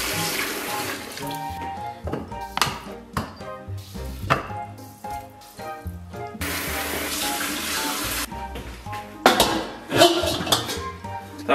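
Tap water running over pig trotters being washed in a kitchen sink, a steady close splashing stream with clattering handling and surges of louder gushing, a voice speaking briefly.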